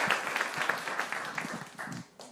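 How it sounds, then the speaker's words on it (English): Audience at a public talk-show taping in New York applauding, a dense steady patter of many hands for a couple of seconds that fades out at the end. "Round of applause."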